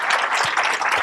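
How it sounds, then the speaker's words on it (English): An audience applauds at an evening commemoration forum, dense clapping heard close and steady through the brief moment, with no voices over it. "let's give one big round of applause to these folks."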